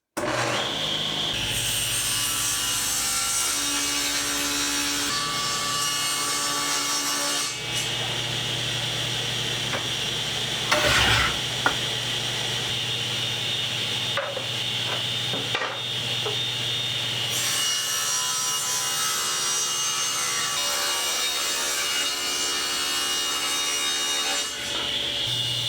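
A saw cuts a sheet of wood into strips with a continuous loud, steady whine lasting many seconds, close by, with small shifts in tone as the cut progresses and no talking.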